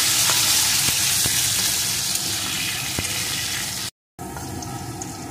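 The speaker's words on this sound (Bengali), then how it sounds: "আলুগুলোকেও আমি লাল লাল করে ভেজে নেব।" Potato pieces fry in hot oil with a loud, steady, close sizzle and scattered crackles, broken by a short silent gap before the frying resumes.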